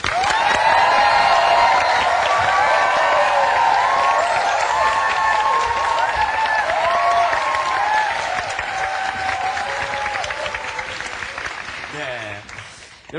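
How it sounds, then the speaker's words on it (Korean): An audience applauds and cheers loudly as guests are welcomed onto a Korean talk show stage, dense clapping with whoops and shouts over music, fading slightly toward the end. "여러분의 큰 박수로 맞이하도록 하겠습니다"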